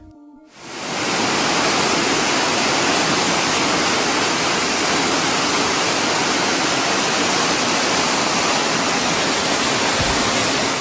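Eternal Flame Falls in Chestnut Ridge Park, New York, produces a steady, close, loud roar of rushing water that begins abruptly and holds constant without pause.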